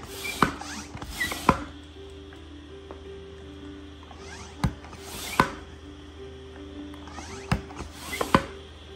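A hand pump inflating a Tobin Sports inflatable kayak gives repeated airy whooshes and plastic clunks, arriving in irregular pairs of strokes with short pauses between them, close by.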